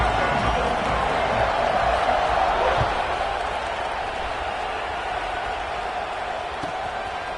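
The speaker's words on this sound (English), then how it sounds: "this crowd is buzzing after that last score" A stadium crowd buzzes after a football score, a dense, steady roar of many voices with faint cheering that dips slightly in volume partway through and then holds level.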